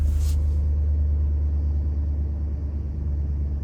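Engine of a 2011–2013 Dodge Durango running at steady idle, a continuous low rumble close by, with a brief hiss at the start and no talking.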